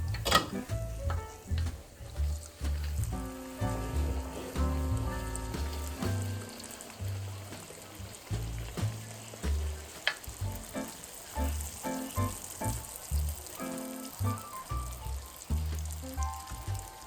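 Ariselu, Andhra rice-flour sweets, deep-frying in hot oil: a dense, continuous bubbling sizzle heard up close, with scattered crackles and pops rising over the roar and no talking.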